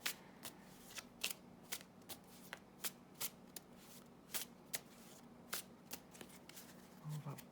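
Tarot cards being shuffled by hand, close and quiet, with a steady series of short crisp riffles and flicks spaced roughly evenly over several seconds.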